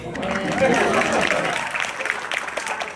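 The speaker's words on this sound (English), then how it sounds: "Yeah, you can clap. You can clap." Audience applause at a Q&A session at Atlantic City Boardwalk Con 2016 rises and holds, a dense wash of clapping with a few voices mixed in, then thins toward the end.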